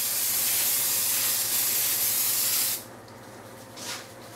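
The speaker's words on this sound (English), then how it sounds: "spray it on the glass" A spray can sends liquid resist onto glass in a steady, loud hiss lasting a few seconds, then cuts off, followed by one shorter, softer burst of spray.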